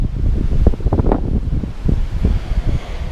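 Strong wind buffets the microphone in heavy, rumbling gusts, loud and continuous with no voices.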